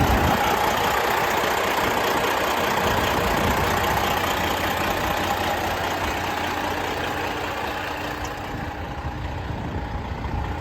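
Pre-emission Detroit 12.7 diesel in a 2019 Western Star glider kit daycab with a 10-speed and wet kit, idling hot with a steady, loud, rumbling clatter that holds throughout with no talk.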